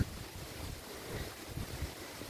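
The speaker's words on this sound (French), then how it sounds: "Je me suis mouillée, aujourd'hui le vent me sèche" Steady outdoor wind rushing and buffeting a microphone, a continuous broadband roar with low gusty rumbles, fairly faint and with no voices.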